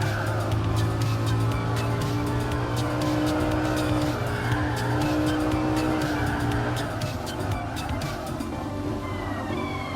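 A race car in Gran Turismo Sport's Mid-Ship Challenge roars at close range with a steady, high-revving engine, while sharp tire squeals cut through near the end.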